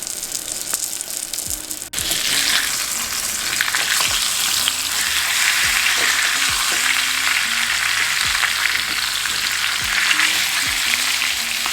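Salmon frying in a pan, a loud, dense, continuous sizzle that kicks in abruptly after a quieter start and holds steady, with occasional faint knocks underneath.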